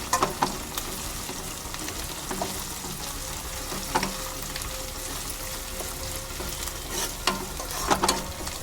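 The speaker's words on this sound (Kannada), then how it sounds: "ಚೆನ್ನಾಗಿ ಹಸಿ ವಾಸನೆ ಎಲ್ಲ ಹೋಗೋ ತನಕ ಫ್ರೈ ಮಾಡ್ಕೊಬೇಕು" Onions sizzle steadily in a hot pan for a South Indian egg curry, with soft spoon scrapes and stirring clatters breaking through the continuous frying hiss.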